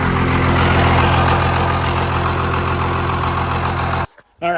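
A First Gen Cummins 12-valve diesel truck engine rumbles loudly and roughly near the listener, holding a heavy knocking idle-to-rev drone. It cuts off abruptly near the end, followed by a short quiet gap and a brief sound.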